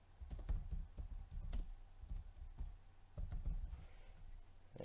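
Fingers typing and clicking on a computer keyboard at a desk while a website is edited, a steady patter of soft, close keystrokes with brief pauses and no talking.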